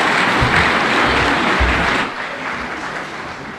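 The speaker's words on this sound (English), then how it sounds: "Another round of applause for all the leaders who have spoken." Applause rises from the audience at a State House event in Kenya, a loud dense wash of many hands clapping that drops slightly in level partway through and carries on.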